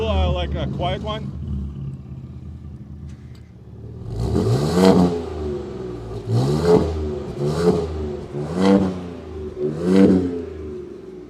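A 2024 Ford Ranger engine in a quieter drive mode gives five short revs in a row, close and moderately loud, following a brief spoken request at the start.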